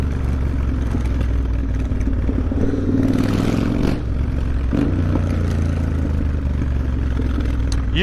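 Motorcycle with an aftermarket exhaust riding through London streets, a loud continuous engine drone with rev swells and road clatter, close and steady throughout.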